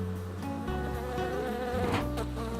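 Honey bees buzz at a beehive that is being calmed with a little smoke. A dense, continuous droning hum with wavering tones fills the whole stretch, close and fairly loud.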